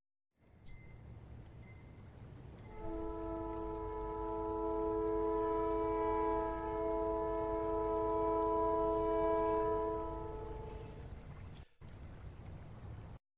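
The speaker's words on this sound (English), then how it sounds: "Did that sound like a train to anybody? Oh yeah, definitely a train." A sustained, chord-like train horn sound effect within a song swells in and holds for several seconds before cutting off, over a soft low rumble.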